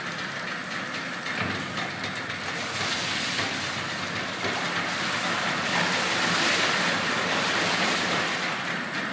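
A 2000 Tracker Pro Deep V-16 aluminum fishing boat's outboard engine runs steadily in gear after a cold start, a loud continuous drone mixed with water wash and wind, with no voices.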